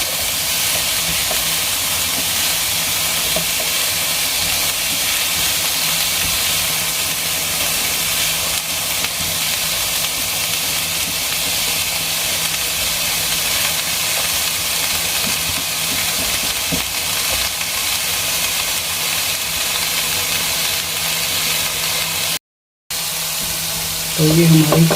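Mixed vegetables fry in a pan for white sauce pasta, a steady loud sizzling hiss that runs almost unbroken, with a brief drop near the end.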